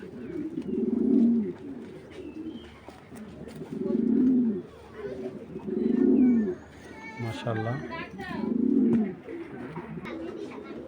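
Racing pigeons coo in four low, rounded bursts spaced evenly a couple of seconds apart. Someone speaks briefly between the calls, and faint chirps sound near the end.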